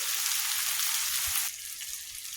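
Pre-fried potatoes dropped into a pan of chicken curry hiss with a loud, steady sizzle that eases slightly partway through, close and without talk.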